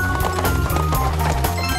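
Galloping hooves of a deer carrying riders in an animated story, a quick rhythmic clip-clop pounding steadily throughout over a dense music and effects bed.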